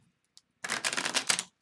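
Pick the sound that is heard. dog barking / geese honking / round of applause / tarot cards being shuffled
tarot cards being shuffled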